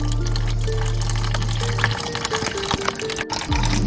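Water draining out of a 1998 Jeep Cherokee XJ, a steady trickling, splashing flow with a low engine-like hum that cuts out partway, near and fairly quiet, with no talk.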